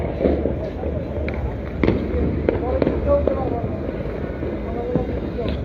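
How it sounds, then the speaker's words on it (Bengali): Fireworks bursting over Dhaka on New Year's Eve, heard from a distance as a dense, continuous crackle and scattered pops under steady wind and crowd noise, with voices talking throughout. "ফানুস উড়ানো হচ্ছে এবং আতসবাজি ফোটানো হচ্ছে"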